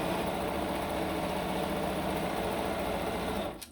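A sewing machine runs steadily through a seam in quilt-block patchwork, a continuous even motor whir with rapid needle rhythm that cuts off abruptly near the end.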